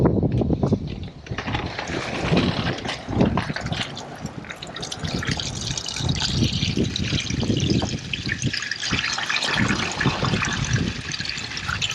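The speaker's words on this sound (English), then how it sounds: "And then we can literally just release the water." Water drains out of a Skyvac gutter vacuum drainage basket holding sludge, a continuous gushing, gurgling pour that trickles and splashes steadily for several seconds, close by and loud.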